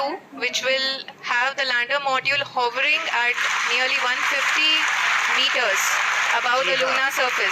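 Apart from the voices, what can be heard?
applause by ISRO scientists during Chandrayaan 3 landing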